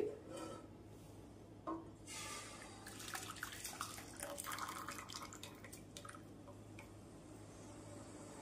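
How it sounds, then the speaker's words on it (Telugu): Jaggery water is poured through a filter while making a ragi junnu sweet, a faint, close trickle and patter of liquid with soft drips and splashes that swell in the middle and then taper. "ఇప్పుడు ఈ బెల్లపు నీళ్ళని ఫిల్టర్ వేసుకుందాం"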